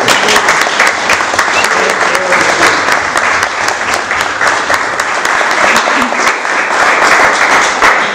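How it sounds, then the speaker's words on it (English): At a gallery opening in Thame Museum, a crowd breaks into a big round of applause: steady, loud, close clapping that holds evenly throughout without a break. "Can I have a big round of applause?"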